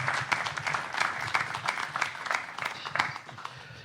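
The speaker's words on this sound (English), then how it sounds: "Big round of applause for Matt." An audience at a speaking event gives a round of applause, producing a few seconds of fairly soft, even clapping from a modest crowd.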